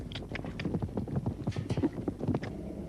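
Horses' hooves clip-clop in a quick, busy rhythm as wild horses are drafted out through a gate on an Australian station, close and steady for the whole stretch.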